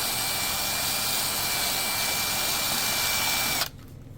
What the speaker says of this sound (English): you just go straight up and down with the drill